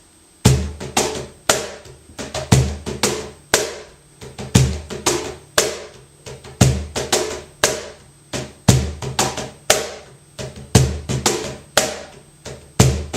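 Cajon played in a bulería pattern, sharp slaps and bass thumps in a repeating twelve-beat cycle with clear accents, close and dry, alone without any voice.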